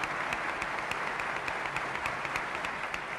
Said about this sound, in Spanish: recibido con aplausos por el hemiciclo, integrado por diputados y senadores